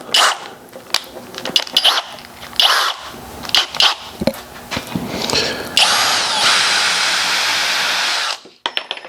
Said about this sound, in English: take and drill some holes through it with a